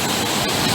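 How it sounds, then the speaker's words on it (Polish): Rough, churning sea surf at Mielno on the Polish Baltic coast in off-season weather, a steady broadband wash of breaking waves filling the brief moment with no voices. "zobaczcie, jakie morze wzburzone."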